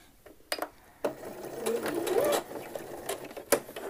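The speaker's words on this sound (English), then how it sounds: "sew right down to that edge. Do a reverse stitch" Sewing machine stitching a men's shirt collar, running steadily through the middle of the clip with a short reverse stitch, framed by sharp clicks and handling taps, no talk.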